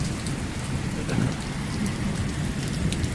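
Heavy nighttime cloudburst downpour in Pothwar hisses and drums steadily nearby, with a deep thunder rumble swelling briefly beneath the constant rain.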